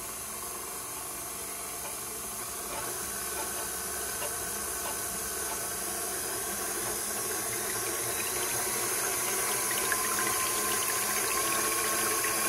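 An electric mixer whisks butter and salt with a steady, even whirring hum that holds unchanged from start to finish, close by and with no talk.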